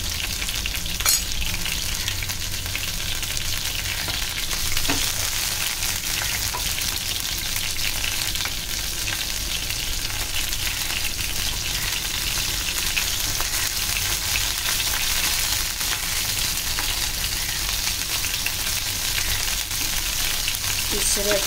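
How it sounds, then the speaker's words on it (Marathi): Clam fritters (bhaji) fry in oil on a flat tava pan, giving a loud, continuous crackling sizzle that holds steady throughout with no talking. "आता मी एक ताट आपलं एक जेवण वाढण्यापुरते फ्राय करून घेते."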